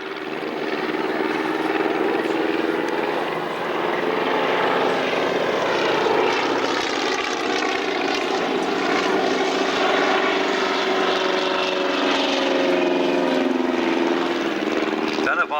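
A Fokker propeller aircraft at an airshow drones loudly and continuously overhead, its engine roar steady and close for the whole stretch.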